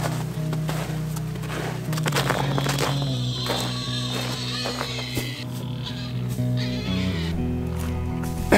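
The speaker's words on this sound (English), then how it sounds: "Hey, goats." Goats bleat over a layer of background music, a few short wavering calls heard fairly close.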